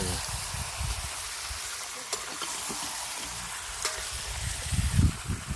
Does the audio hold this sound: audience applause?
no